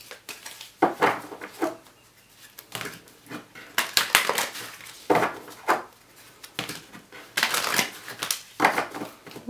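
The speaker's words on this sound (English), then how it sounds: "We will shuffle them for you." Tarot cards being shuffled by hand in repeated bursts of riffling and sliding, with short pauses between each pass; close, fairly quiet, with no talking.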